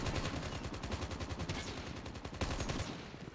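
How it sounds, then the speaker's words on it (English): Rapid automatic gunfire from the mobile shooter game Call of Duty Mobile rattles in quick continuous bursts for about two and a half seconds, then trails off into quieter ambience. "Someone's shooting at me."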